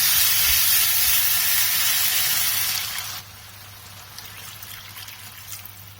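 Water poured into a pan of sizzling tomato masala for an arbi (taro root) curry, a loud steady hiss and splash of frying liquid that drops sharply to a quieter simmer midway.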